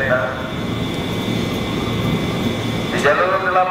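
A 12-car KRL Tokyu 8500 commuter train rumbles loudly and steadily at Jakarta Kota station, with a brief squeal near the end.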